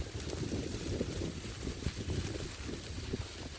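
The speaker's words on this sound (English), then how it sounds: "And the wind's picking up" Wind blowing steadily outdoors in the evening beside a cooking griddle, a continuous broadband rush with low rumbling buffets against the microphone, fairly close and unbroken.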